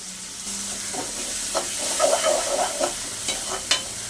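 Cut eggplant pieces drop into a hot pan with tomato and are stirred, giving a close, steady sizzle with scraping spoon strokes and small clicks over about four seconds.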